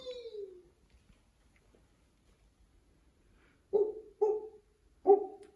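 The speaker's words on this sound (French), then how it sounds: "Ce serait pas un chien?" A faint whine or whimper at first, then after a quiet pause three short, sharp dog barks ring out close by in quick succession.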